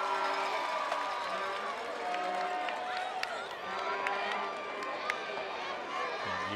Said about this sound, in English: You hear that Capital crowd roaring their approval on the turnover on downs there for the Cougars.